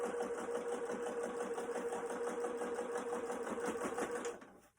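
A sewing machine stitches the seam of a fabric face mask, a rapid, even mechanical chatter running steadily up close before stopping abruptly near the end.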